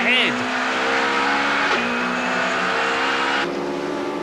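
A 1990 BTCC touring car screams along from an in-car view, its engine droning loud and steady with a gearshift drop partway through, while a commentator talks over the racket.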